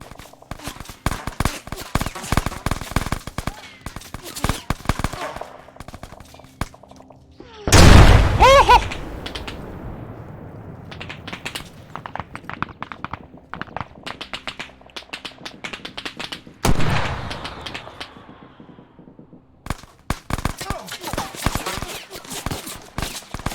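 Sporadic video game gunfire from enemies crackles in scattered bursts of sharp taps and pops, with two louder booming blasts partway through and quieter gaps between volleys.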